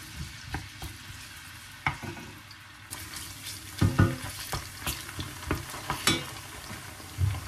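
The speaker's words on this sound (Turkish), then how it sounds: "Soğanı güzelce kavurayım." Onions frying in a pan, with intermittent scraping stirs and clinks over a low, steady sizzle.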